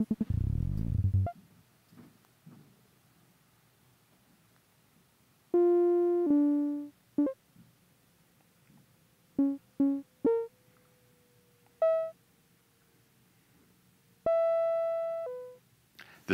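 An OPx-4 synthesizer running a generative patch plays modulated sine-wave tones: short, clean bursts and held notes that step between pitches, separated by silent gaps, with no one talking.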